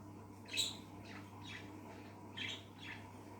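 A pair of mating budgerigars gives faint, scattered squawks and chirps, with one brighter call near the start, over a steady low background hum indoors.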